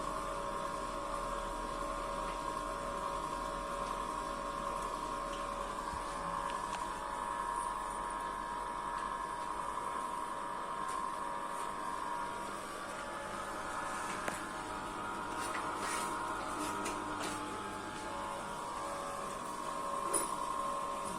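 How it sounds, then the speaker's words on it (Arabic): An Intopack model 811 filling and packaging machine runs with a continuous, even mechanical hum and hiss, a few faint clicks rising over the steady drone, with no talking. "ماكينة موديل 811 من شركة انتوباك لماكينات التعبئة والتغليف الحديث."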